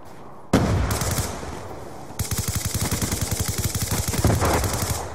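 Gunfire in Call of Duty: Black Ops 2 crackles loud and close, starting with a burst, then settling into rapid, evenly spaced automatic shots that continue steadily to the end.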